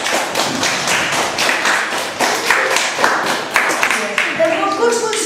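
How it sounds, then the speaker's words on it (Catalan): A class of schoolchildren at a quiz contest claps in quick, close, uneven handclaps for several seconds, with a voice rising near the end. "Un aplaudiment per els"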